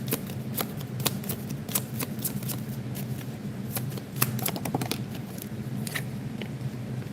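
A deck of tarot-style reading cards shuffled by hand, a steady run of quick papery riffles and flicks close by, continuing throughout with no talking.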